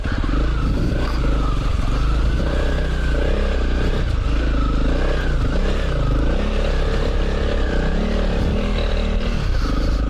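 Trail motorcycle ridden up a rocky stream bed on the Yorkshire TET, engine droning loud and close with shifting revs, rattles and clatter of rocks under the wheels throughout.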